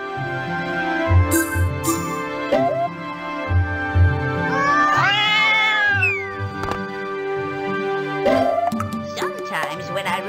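Cats meow in the Granny in Paradise video game; several drawn-out, rising and falling meows sound among busy game noises and other voice-like sounds across the clip.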